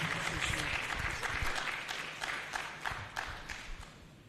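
An audience at a pharmacists' annual conference breaks into sustained applause, many hands clapping densely in a hall, strongest at first and then gradually thinning and fading.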